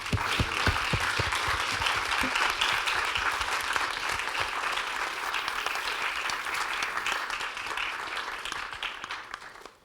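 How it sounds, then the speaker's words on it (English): A large audience at an entrepreneurs' event bursts into sustained applause, dense and steady for the full stretch before tapering off at the end, with no talk over it. "Maybe a round of applause."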